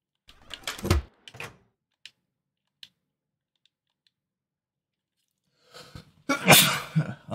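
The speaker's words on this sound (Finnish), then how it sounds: "Anteeksi, nyt tulee aivastuskin jo." A single loud, close sneeze opens, followed by a few faint clicks and taps in near silence, then a second sharp burst of breathy sneeze-like noise.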